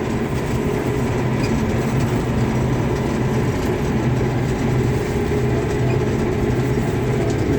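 A combine harvester's engine runs at about 1900 rpm during a sunflower harvest, giving a steady, loud, dense rumble that holds even and unbroken throughout with no voices.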